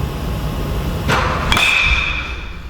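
A sharp metallic ping of a baseball bat striking a ball off the barrel rings out once over steady background noise, followed by a faint second crack.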